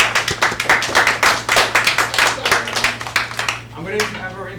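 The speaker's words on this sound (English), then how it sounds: "So give her a round of applause" Clapping from a small audience at a gathering honoring a new University of San Diego graduate, individual claps distinct and close, lively at first and tapering off as a voice begins talking near the end.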